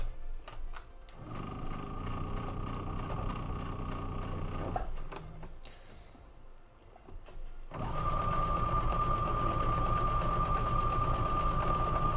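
A sewing machine stitches seams butted up against each other, running in two steady, close, loud bursts separated by a short pause, a fast mechanical rattle with a high whine.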